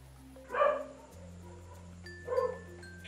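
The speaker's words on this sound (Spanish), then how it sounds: "Está un perro." A dog barks twice, a short pair of barks about two seconds apart, moderately close, in a quiet indoor setting with a low steady hum and no talk.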